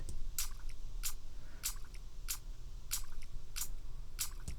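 A quiet, crisp hi-hat pattern ticks at a steady pace, each hit bright and sizzly with a faint grainy layered texture behind it from an added Elektron layer.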